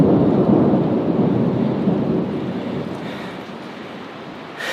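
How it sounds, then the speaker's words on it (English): A monsoonal summer thunderstorm right overhead: a loud, dense roar of rain mixed with deep rolling thunder, gradually easing in intensity, with no talking. "It's a monsoonal summer rainstorm, thunderstorm, little thundercloud right on top of us."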